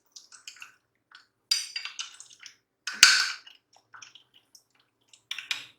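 Milk being mixed into bread batter in a bowl gives soft, wet squishing and light clinks of a utensil. The sounds come in scattered short bursts, with one louder splashy scrape in the middle, close up and with no voices.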